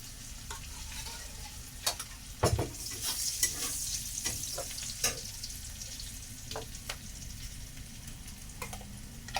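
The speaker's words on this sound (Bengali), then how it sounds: "আর এখানে কড়াই পেঁয়াজ দিয়েছি" Onions fry in a wok, with a steady sizzle and repeated scraping and clacking as they are stirred, fairly close and with no voices.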